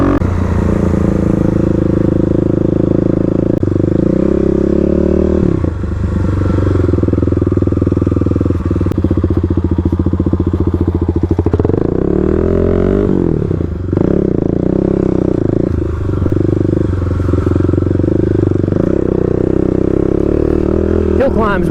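A Kawasaki KLX351 dirt bike rides off-road on hill climbs, its engine droning loud and close throughout with revs rising and falling, plus clattering and scraping from the terrain.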